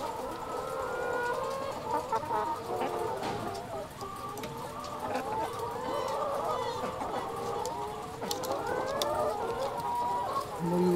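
Chickens on a poultry farm cluck steadily and overlap in a continuous, moderately loud flock chatter, with a rooster crowing now and then among them.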